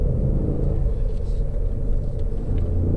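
A Ford Fiesta ST Mk8 three-cylinder engine pulls hard downhill, its deep rumbling drone heard close and loud from inside the car, steady and throaty for the whole moment.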